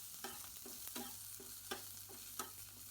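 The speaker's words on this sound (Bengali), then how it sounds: "2 মিনিটে ধরে ভাজতে ভাজতে পেঁয়াজটাও বেশ একটু কালার চলে আসতেছে" Sliced onion and three slit green chillies fry in a pan for a mashed bharta, a faint, low sizzle broken by about five soft, evenly spaced scrapes of a spatula stirring, with no voices.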